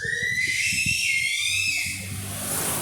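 A young girl fresh from a bath shrieks with joy in the background, one long high-pitched squeal that wavers and holds, faint and somewhat distant.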